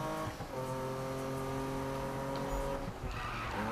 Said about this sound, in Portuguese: mas esse drift aqui até que foi bem feito